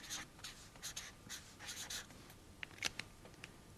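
Pen or pencil writing out a decimal number for an arithmetic rounding exercise, heard as a run of soft, close scratchy strokes in short bursts with brief pauses, a few sharper taps near the end, no talking.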